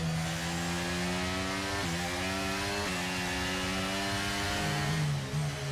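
Formula 1 race car engines in F1 23 on the formation lap, a steady droning whine of several engines with pitch shifting slightly as cars change speed, continuous and fairly loud with no talk.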